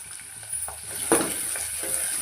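Vegetables with curry leaves, coriander and tomato fry in oil for ragi upma, giving a brief, close sizzle broken by a few stirring scrapes.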